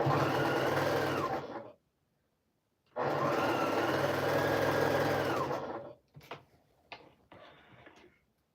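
A sewing machine pieces fabric together in two sustained bursts of fast, steady stitching, separated by a pause, followed by a few short stops and starts at close range.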